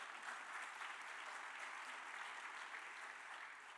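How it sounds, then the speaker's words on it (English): Applause for a festival team at a keynote address fills the hall, a steady, dense wash of clapping heard from a distance at low level and alone, tapering slightly at the end. "And that applause is well-deserved."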